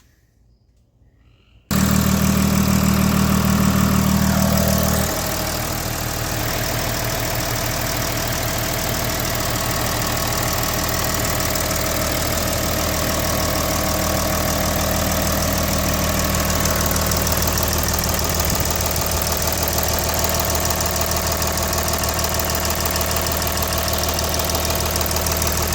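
A 2014 Audi A6 TDI diesel engine cranks and catches, with a brief loud whine at startup, then settles into a steady, even idle that continues, heard close and alone.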